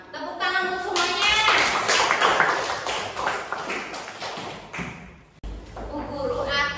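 A classroom of children claps together for everyone, a dense run of hand claps and thuds lasting several seconds, with a teacher's voice and children's speech over it before a brief pause.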